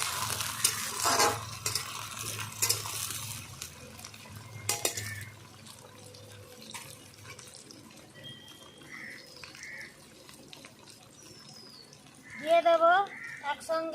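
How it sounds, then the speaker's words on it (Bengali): Chicken and cut potatoes are stirred and sautéed in a pan for a chicken curry, with spoon scraping, clinks and a low sizzle, louder bursts of stirring at the start and end. "দিয়ে দেবো আলু কেটে রাখা আলুগুলো দিয়ে দেবো একসঙ্গে ভালো করে আমি কষিয়ে নেবো"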